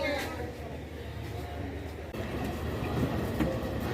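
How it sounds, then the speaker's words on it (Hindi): Passenger train 102 Down pulls out of Rawalpindi station after rain, a steady rumble of carriages and rolling wheels heard from inside a coach, with a voice talking over it. "Rawalpindi railway station system depart कर रही है 102 डाउन।"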